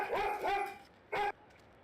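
A dog in a GTA game gives a few short barks and yips close by: two quick barks, a pause, then one more sharp bark, with quiet background between.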